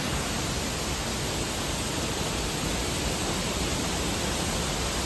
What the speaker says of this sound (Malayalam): ഇതാണ് ഗൈസ് നമ്മളെ ഫേമസ് ആയ വെള്ളച്ചാട്ടം.